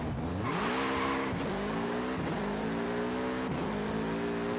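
A Hoonigan Volkswagen in Forza Horizon 5 revs hard and continuously, its engine note climbing and dropping through several gear shifts, loud and steady with no voices.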